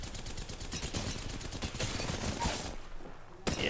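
Rapid, loud gunfire in Apex Legends, a dense burst of shots filling the first few seconds before easing off, with one more sharp blast near the end.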